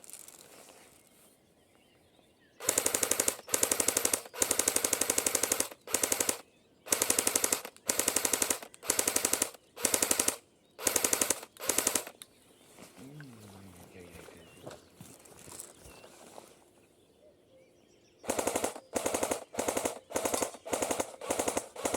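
Bursts of rapid full-auto fire from a Cyma CM028U airsoft gun in a forest, several long strings separated by short pauses, close and loud, with a voice speaking briefly in a quieter gap.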